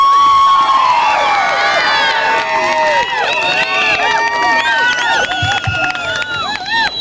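A loud rally crowd at a Prop 187 protest screams and cheers continuously, many overlapping high shouts and whistles filling the space, close and sustained throughout.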